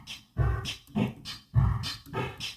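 A drum kit assembled from cartoon and video game sound samples, treated with reverb and softened highs, plays a steady beat of four punchy, bark-like hits with low thumps and bright accents.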